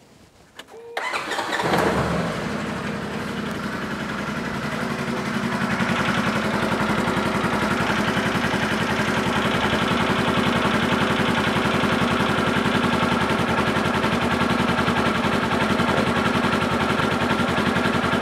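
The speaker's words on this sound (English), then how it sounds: "So I'm going to start it up." A 2015 Polaris RZR 900S side-by-side cranks for a moment, then catches and settles into a steady, close, continuous idle that holds for the rest of the stretch with no talking.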